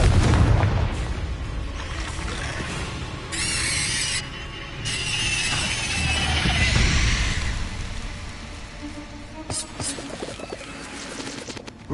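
Confringo blasting curses going off during a Hogwarts Legacy fight, several loud booming explosions mixed with high squealing spell effects and crackling bursts, dense and close throughout.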